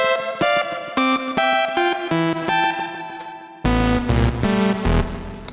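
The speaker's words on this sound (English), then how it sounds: "So let's go ahead and get into a chord progression." Gospel chord progression on a keyboard sound through an MPC and FL Studio setup, with dense stacked chords struck in a steady rhythm, loud and close, moving into a fuller, heavier section partway through.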